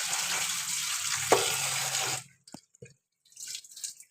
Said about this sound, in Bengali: দিয়ে এবার এই জলটা ঝরিয়ে নেবো, এই কষটা বেরিয়ে যাবে।